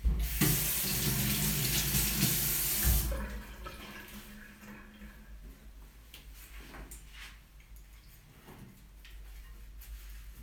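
Chopsticks are washed under a running kitchen tap: a loud hissing rush of water for about three seconds, then quieter trickling and splashing with small clicks and knocks of handling.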